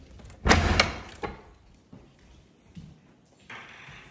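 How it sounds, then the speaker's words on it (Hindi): A door being opened indoors in a house, giving a cluster of loud, close clunks and thumps followed by a few softer knocks and shuffles. "रुकिए, मैं दरवाजा खोलती हूँ"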